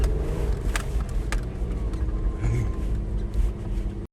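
A Toyota Land Cruiser Prado 120 with a manual gearbox, in second gear, strains to pull free. Its engine makes a steady low rumble at modest revs throughout, close and continuous, with faint voices in the background.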